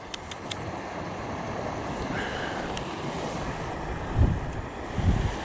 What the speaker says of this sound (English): that wind is blowing from my right to my left